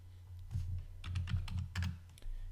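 Computer keyboard typing, a quick irregular run of close, crisp key clicks over a steady low hum, with no talk.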